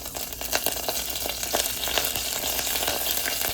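Curry leaves frying in hot oil for a mushroom gravy, producing a close, steady, crackling sizzle with quick popping spatters throughout.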